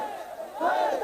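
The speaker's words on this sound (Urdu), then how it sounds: "ہاتھ چک کے نعرہ لاؤ" Crowd at a religious gathering raising hands and chanting a slogan together, a brief swell of massed voices rising to a loud shout after a quieter start.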